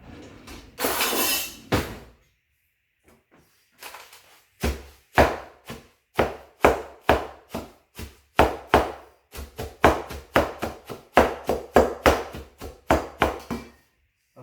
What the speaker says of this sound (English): And I probably tear up my blade every time I chop.